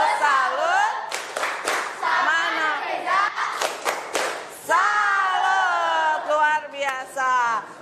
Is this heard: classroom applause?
yes